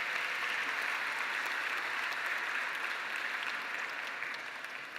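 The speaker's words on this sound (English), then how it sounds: "Let's give them all a round of applause." Steady, sustained applause from a gala audience honoring volunteers at a New York City melanoma fundraiser, a dense even wash of clapping that holds for several seconds and only begins to thin near the end.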